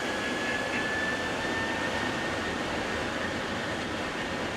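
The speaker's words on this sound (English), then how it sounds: "takeoff thrust set" Boeing 737-700 jet engines spool up at takeoff thrust on departure from Sao Paulo Congonhas Airport, a loud, steady broadband roar with a faint high whine, heard alone.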